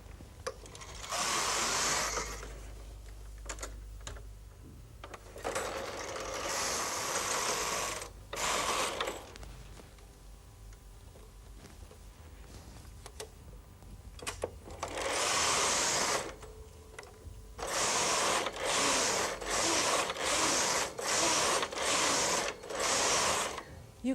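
A Brother Electroknit KH 950i knitting machine knits in repeated carriage passes, each a loud mechanical whirring rattle separated by short pauses, with quieter gaps where a person speaks.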